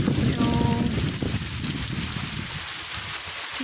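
Heavy rain pours down steadily as a dense, constant hiss with no break, close and loud, and no voices over it.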